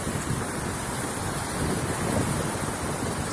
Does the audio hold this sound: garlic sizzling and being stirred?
no